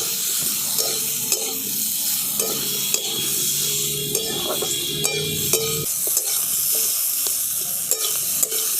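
Vegetables fry in a pan, browning for a gadal leaf jhol, under a constant close sizzle with regular scraping stir strokes and light clinks of the spoon.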